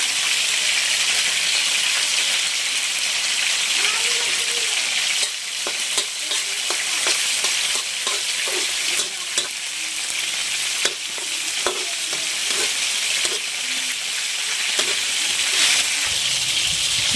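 Ginger, onion and garlic sauté in hot oil in a pan, the start of a papaya escabeche. A steady, close sizzle runs throughout, with scattered clicks and scrapes from stirring.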